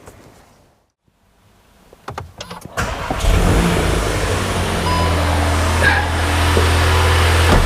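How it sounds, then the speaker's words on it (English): A VW Golf GTI Clubsport engine, just refilled with fresh oil, cranks briefly with a few clicks, then catches and settles into a steady, loud idle that carries on to the end, close up. "it will settle once we start the engine"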